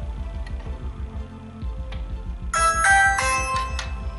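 A Ring Video Doorbell Pro chimes after its button is pressed, a bright melodic ding-dong tone ringing out over a steady ticking background, with no voices.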